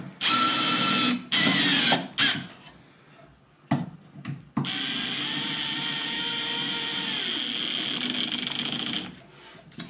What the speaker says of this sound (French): Et on va venir finir de visser.